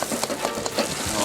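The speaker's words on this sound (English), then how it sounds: "I'm going to add that pork to the wok." Pork stir-frying in a wok for pan-fried noodles: a close, steady sizzle with small scraping and tossing clicks at an irregular rhythm, no voices.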